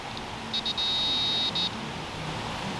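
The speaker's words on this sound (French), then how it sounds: "vous allez entendre un bip, bip, bip, bip" A paranormal touch-sensor box gives a few short electronic beeps, two quick chirps then a longer steady tone and one more brief beep, faint over a quiet outdoor background at the Plains of Abraham in Quebec.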